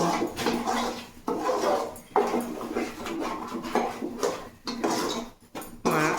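Tomatoes go into a pot for a tomato gravy curry, with close clattering of metal pots, pans and utensils in a busy home kitchen, sounding in irregular scraping and clinking bursts.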